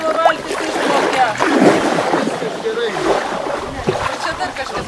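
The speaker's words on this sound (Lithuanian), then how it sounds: "Ir nu ten plaukia, klausykit, gintas tavo valtis išplaukia." A rowboat moves on the Širvinta river, its splashes and water lapping heard close by under wind noise while people talk throughout.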